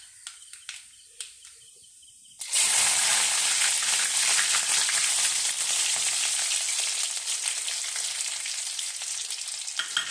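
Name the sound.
garlic frying in hot oil with mustard seeds for mango pickle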